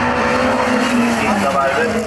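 A race car passes on a track, its engine a loud, close, rising and falling roar, with speech running over it.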